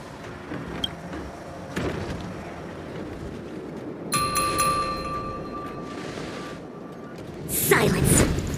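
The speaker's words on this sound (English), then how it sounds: "We could try ringing the harmonic chime." A harmonic chime being rung in the video game Honkai Star Rail, a single sustained, bright tone with shimmering overtones midway through, over ambient hum and followed by a swelling whoosh.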